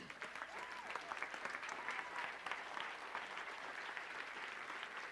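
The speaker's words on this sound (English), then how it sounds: "Give her a round of applause." Audience applause at a speaking event, a steady dense patter of many hands clapping at moderate distance, continuing evenly for several seconds with faint crowd murmur underneath.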